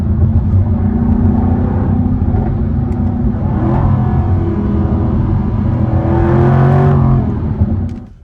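A 2023 Jaguar F-Type P450 AWD in dynamic mode, its exhaust droning loud and steady while driving, with a rise in revs and burbling near the end before it fades.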